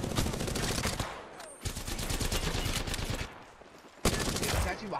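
Rapid automatic gunfire in a video game, played as dense, loud bursts separated by brief gaps, with a final burst starting after a short pause.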